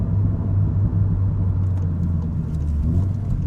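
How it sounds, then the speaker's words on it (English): A car with a flash-tuned engine and DSG gearbox runs with a steady, deep exhaust burble and low rumble, close and loud, with faint light crackles. "the burble sounds are awesome now. They're not as annoying or harsh."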